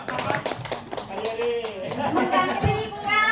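Audience applause for a teacher at a school gathering, a steady patter of many hands clapping at close range, with voices mixed in throughout.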